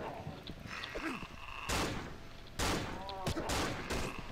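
Bursts of gunfire in the horror video game Cry of Fear, several loud broadband shots in quick succession amid game noise.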